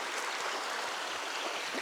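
A river runs over rocks in an eroding river wash in the Santa Ana Mountains, giving a steady, faint, broadband rush of flowing water with no voices.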